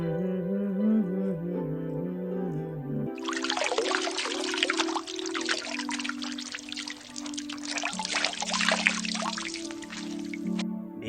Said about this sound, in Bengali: এবার গিয়ে জলটা ঢেলে নিই।